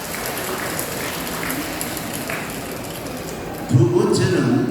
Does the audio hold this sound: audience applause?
yes